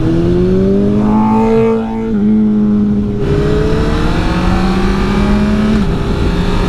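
Honda CBR1000RR sport bike engine and exhaust revving up and down close by, a fairly tame mid-pitched drone with rising and falling tone and a brief dip near two seconds, alone with no talk.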